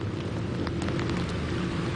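Steady rain falls outside on a town street at night, a continuous even hiss with faint scattered drops and a low background rumble.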